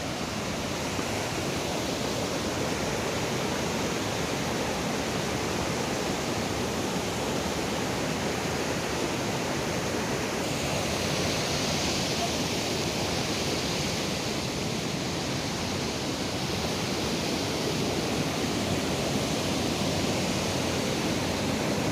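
The Pulga waterfall, a small fall near Grahan village in Kasol, Himachal, makes a steady broadband rush of water that holds constant and even for the whole stretch, with nothing else audible over it.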